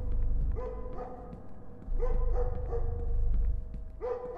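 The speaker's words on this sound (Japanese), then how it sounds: "ワンちゃんがいるぞ。" A dog barks in the horror video game Jawbreaker, several sharp, fairly close barks in irregular bursts over low rumbling background noise.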